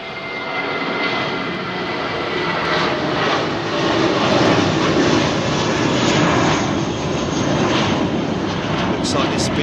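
Flybe jet airliner on approach to London Heathrow, a loud sustained engine roar that swells slightly and holds steady close by, with no talk over it.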